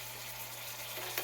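Sloppy joe ground meat mixture with garlic and Worcestershire sauce sizzling in a pan, a steady close crackling hiss at moderate level with a low constant hum beneath and a brief scrape near the end.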